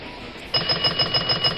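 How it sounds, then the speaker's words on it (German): Repeating electronic bell chime from the Railroad Tycoon 2 video game, signalling a train's arrival: a steady, rapid ding pattern that begins abruptly and rings clearly on its own. "Ding Ding. Der ist auch angekommen."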